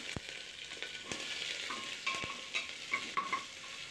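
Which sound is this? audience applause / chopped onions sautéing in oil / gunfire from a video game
chopped onions sautéing in oil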